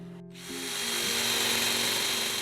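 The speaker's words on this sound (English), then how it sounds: "I might even drill some of these." A power drill bores into wooden chair parts such as spindles and steam-bent pieces. After a short click and pause, the motor spins up into a steady whining drone that holds to the end.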